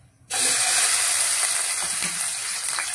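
Chopped onion dropped into hot oil in a pan erupts into a loud, steady sizzle that holds evenly for the rest of the moment after a quiet start.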